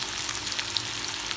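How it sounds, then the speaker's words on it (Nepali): Potatoes for aloo bhujia fry in a pan, giving a close, steady crackling sizzle with faint stirring, no voices. "मजाले भुट्नुपर्छ"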